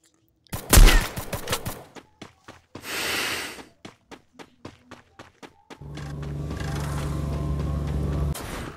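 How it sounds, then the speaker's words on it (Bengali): Rapid gunfire bursts in a battle royale video game, a loud volley at the start followed by a string of sharp single shots and then a sustained rumbling engine-like drone near the end, with no talk. "গুলি তো লাগতেছে রে ভাই"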